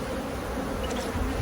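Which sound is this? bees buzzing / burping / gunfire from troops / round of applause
bees buzzing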